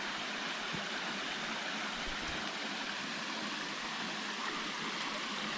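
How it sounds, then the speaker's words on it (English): Mini waterfalls at Twin Falls Resort State Park give a steady broadband rush of falling water, continuous and fairly faint, with no voices. "a whole bunch of mini waterfalls all the way back in here"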